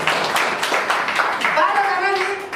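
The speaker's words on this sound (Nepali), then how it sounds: "उहाँको लागि ताली बजाइदिन्छ।" An audience claps for a preacher during a church sermon: a burst of quick, fairly loud hand claps that fades as a voice takes over.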